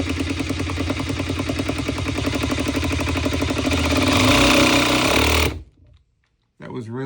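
A cordless drill or impact driver drives a screw with a steady, buzzing motor whir for about five seconds, then stops abruptly; a short burst of voice follows after a brief silence.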